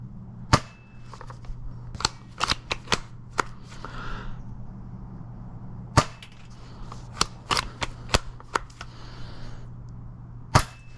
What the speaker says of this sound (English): I'm gonna try to see where this thing actually shoots.